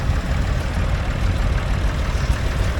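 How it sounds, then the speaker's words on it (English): A medium-sized Massey Ferguson tractor engine runs steadily at a rally, a low chugging rumble held at an even level throughout. "And from that another Massey Ferguson, sort of medium-sized tractor."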